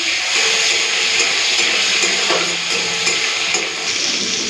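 Sliced tomatoes frying in a pan with nigella seeds and green chilli give a steady, close, continuous sizzle and hiss with faint stirring and no talking.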